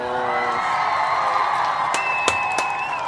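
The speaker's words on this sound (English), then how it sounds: "we need to give all the Kujichagulia babies, all the Kujichagulia born, a round of applause" An excited crowd cheers, whoops and claps together in a continuous roar, with high shouted voices and whistles cutting through near the end.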